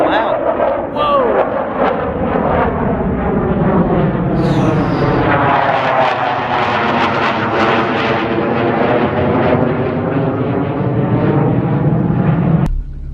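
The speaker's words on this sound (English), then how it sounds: "There's another one, jeez. They're so loud." A jet airliner roars overhead while landing at Tampa International Airport, a loud, continuous rushing roar with a slowly sweeping pitch that fills the whole stretch and cuts off abruptly at the end.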